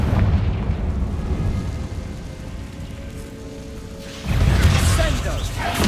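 Confringo spell explosions from the Hogwarts Legacy video game burst in loud, rumbling blasts over a steady noisy background, with a heavier boom surging in near the end.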